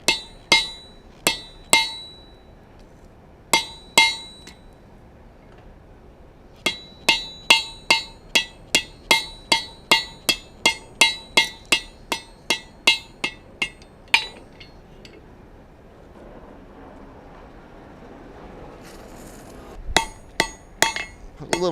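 Steel is forged by hand with a hand-held fuller, a hammer ringing in sharp metallic blows, first in scattered pairs, then a long steady run of evenly spaced strikes, a quieter pause, and a few final hits.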